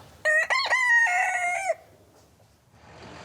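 A rooster, one of two kept at a home in a neighbourhood dispute, gives one loud, close crow of about a second and a half. It rises and falls sharply, then trails off into quiet background.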